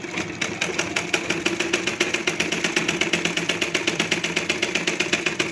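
Domestic sewing machine running steadily while stitching a blouse, a fast, even mechanical whir with rapid regular needle ticks, close and continuous throughout with no talking.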